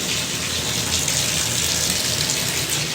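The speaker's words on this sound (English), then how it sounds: "Make sure the water flows well." Water gushes steadily from a household tap during a home inspection check, a loud, even rushing flow close by with no talk.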